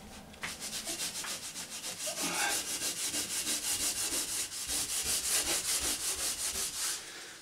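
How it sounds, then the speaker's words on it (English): Steady back-and-forth sanding scrapes as blackberry wine stains are rubbed off a painted wall, a close, continuous rhythmic rasp with regular strokes throughout and no talking. "Can't believe I'm having to sand the wall."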